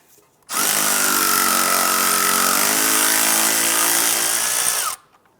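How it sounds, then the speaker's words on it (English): A power ratchet or impact tool with a 10mm socket spinning out a bolt on the strut of a 2001-2005 Honda Civic, one loud continuous whir lasting about four and a half seconds, close and alone. "I'm going to use a 10mm socket to remove the ABS line to the strut."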